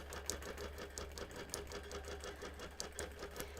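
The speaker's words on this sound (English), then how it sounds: "So my machine is stitching perfectly straight" A sewing machine runs steadily during free motion quilting, its needle ticking in a fast, even rhythm close by and quite faint, with no voices.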